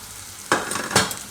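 Green beans with turmeric, coriander-cumin powder, Kashmiri chili and green chilies are stirred in a hot pan, giving two quick scraping sizzles against a quiet, faint frying background.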